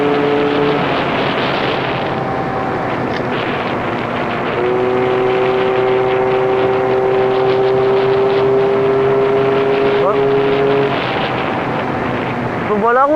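An Aprilia 400 scooter with a modified Giannelli Cross exhaust drones loudly and steadily while riding on the road, its engine pitch rising and falling with the throttle, with wind buffeting, engine sound continuous throughout.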